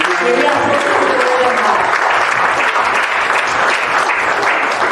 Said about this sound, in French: Acclamons pour la parole de Dieu.